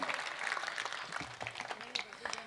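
A crowd at a live Hindi comedy stage show claps through a short burst of applause, a dense patter with scattered sharper hand claps and some voices mixed underneath.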